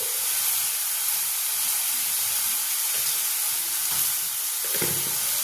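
Ground spice paste frying in a pan, a continuous bright sizzle and hiss with light spatula scraping, steady and close with no voices.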